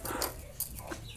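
Native hens being fed, giving faint scattered clucks and short calls against a quiet background.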